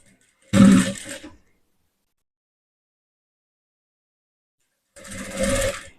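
A sewing machine runs two short stitching bursts along the piping of a shoulderless blouse, each lasting about a second, separated by a long silent pause.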